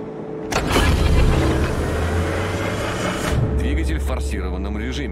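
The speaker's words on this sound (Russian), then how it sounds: "Двигатель в форсированном режиме." A warship's engine in boost mode in a naval battle video game, a loud steady mechanical roar and drone that rises sharply after a brief quiet start and holds, with shifting whirring tones near the end, while a voice speaks over it.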